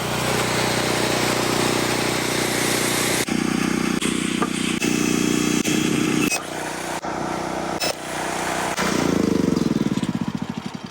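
A small generator's engine, freshly repaired after a seized motor, runs steadily and loud for the whole stretch, its even drone briefly dipping and catching before rising again, with no talk over it.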